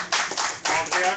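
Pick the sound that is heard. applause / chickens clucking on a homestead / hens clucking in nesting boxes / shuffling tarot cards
applause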